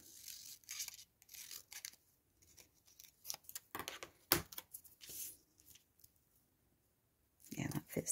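Scissors snip through envelope paper in a series of short crisp cuts and rustles, close by, with a voice speaking intermittently alongside.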